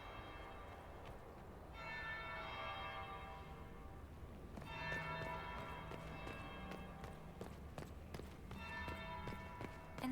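A bell in Dragon Age: Inquisition rings out in bursts of bright, sustained metallic tones, sounding, fading and sounding again over a low background with faint footstep-like clatter.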